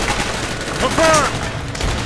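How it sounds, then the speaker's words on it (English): Dense gunfire from the Call of Duty: Black Ops campaign, a continuous loud rattle of overlapping shots with shouting voices mixed in throughout. "You're getting shot up!"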